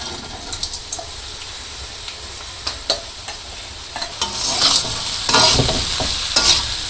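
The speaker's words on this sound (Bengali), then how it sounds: "তো করলা ভাজিটা বসিয়ে দিলাম চুলায়" Sliced bitter gourd frying in a pan on a village stove, a steady sizzle and hiss with occasional stirring scrapes, growing louder and brighter toward the end.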